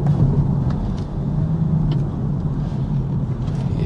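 BMW M440i engine revving high in manual mode on a twisty country road, a steady loud low rumble with road and wind noise inside the cabin, no talk.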